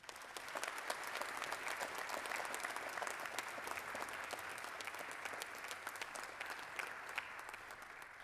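Steady applause from a seated audience at a university military commissioning ceremony, continuous and fairly even for the whole stretch, heard from some distance in a large hall.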